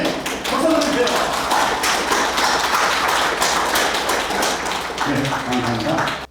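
An audience at a company New Year opening ceremony and new president's inauguration claps steadily for several seconds, a dense, even round of applause close by.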